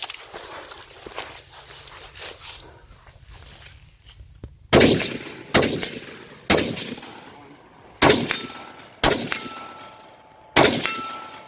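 Pistol shots fired on the move during a concealed-carry training drill in Clermont, Florida: six sharp, loud reports spaced about a second apart, each ringing off briefly, after a quieter stretch of shuffling and faint outdoor noise.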